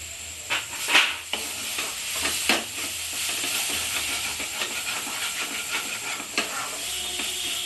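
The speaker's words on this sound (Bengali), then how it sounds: "মশলাটা আমি তেল ছাড়া পর্যন্ত একটু কষবো না হলে কাঁচা কাঁচা গন্ধ করবে ওই জন্য আমি মশলাটা একটু ভালো করে ভেজে নেব" Spice masala with turmeric and salt being sautéed in hot oil for Bengali-style chicken cutlets: a steady close sizzle and hiss with intermittent stirring scrapes.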